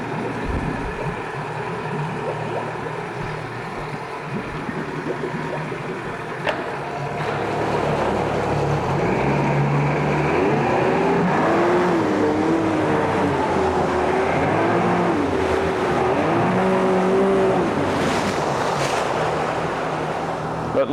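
A 2004 Yamaha 90hp four-stroke tiller outboard runs steadily on a boat in cold Minnesota water, a continuous engine drone mixed with wind and water noise that grows louder partway through.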